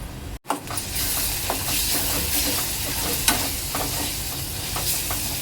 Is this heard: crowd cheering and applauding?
no